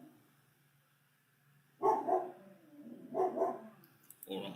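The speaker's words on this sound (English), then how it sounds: "Dogs deciding to bark." A dog barks in the background in two short clusters of muffled barks separated by a pause, fairly faint and distant against a quiet room.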